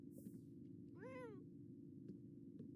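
A single short meow from a cat in The Sims 4, rising and then falling, set over a steady low game hum and a few faint clicks.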